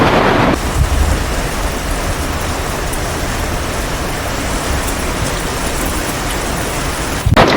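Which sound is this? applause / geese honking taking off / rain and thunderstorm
rain and thunderstorm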